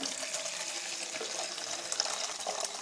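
Hot water from a kettle pours steadily into a container in a home laundry whitening setup, a continuous bright splashing stream, close and moderately loud, no talking.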